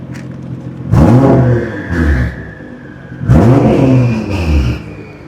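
A 2019 Nissan GT-R with a Boost Logic 4.5-inch exhaust blips its throttle twice, each loud rev rising sharply then falling back to idle, with a turbo whine trailing each blip.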